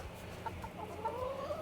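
Backyard homestead chickens cluck softly and intermittently, a few short calls rising over a low rumbling outdoor background, close by with no talking.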